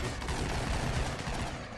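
Dense, rapid gunfire crackles without a break for under two seconds during a raider attack in the RimWorld video game, with no talking over it.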